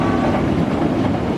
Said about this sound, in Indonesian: Melintas KA BBM 2626 Rewulu Madiun